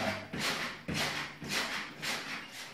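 Spring-based rebounder trampoline with metal hooks on metal pins, bounced in a regular rhythm, each landing giving a broad creaking, squeaking burst about every half second, four or five times.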